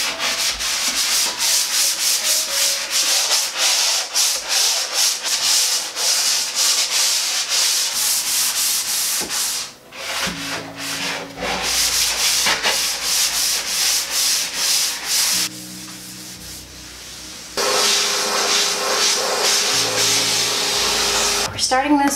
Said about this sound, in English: I'm just gonna give it a quick sand so that it's a little bit scuffed up